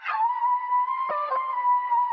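A reversed, chopped vocal sample pitched and processed with effects for a detuned vintage beat: a sustained, wavering tone with a brief choppy break midway, loud and alone.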